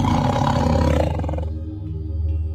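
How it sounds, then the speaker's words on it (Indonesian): A tiger growls in a deep, loud, rumbling roar that holds for over a second and then eases into a lower, fading rumble, heard alone as a sound effect in a mystical mountain horror story. "Geram macan itu."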